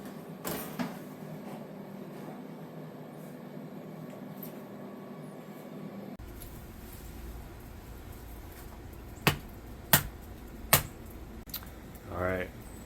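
A roasted fruit pit is cracked open with three sharp, close snaps spaced under a second apart, after a stretch of quiet background hum. A brief soft scrape follows.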